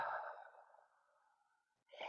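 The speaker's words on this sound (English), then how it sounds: "And then a big audible exhale." A single long, breathy exhale during a guided breathing exercise. It starts strong and trails off slowly, then a fresh breath is drawn in at the end. It is heard close and alone, with no talking.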